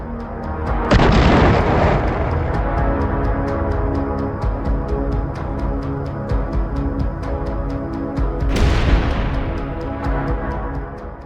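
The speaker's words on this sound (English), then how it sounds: "triggering a violent chain reaction of explosions that tore" A convoy of ammunition trucks explodes after an FPV drone strike, opening with a heavy boom and a sustained roar of burning and crackling, then a second sharp blast around the eight-second mark that rumbles off.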